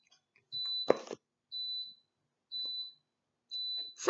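A device gives a confirmation beep: four short, high, even tones about one second apart, with brief rustling bursts between some of them.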